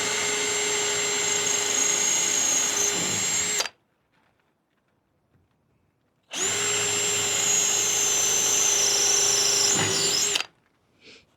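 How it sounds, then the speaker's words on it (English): A power drill pre-drilling screw holes in wood runs in two steady, loud whining bursts of about three and four seconds, separated by a silent pause, close by and winding down at the end of each run. "So it means pre-drilling all the holes."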